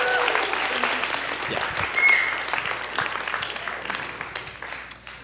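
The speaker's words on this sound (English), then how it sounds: "Round of applause." An audience at an evening church gathering applauds a welcomed guest, dense steady clapping that thins into scattered claps toward the end, with a brief voice.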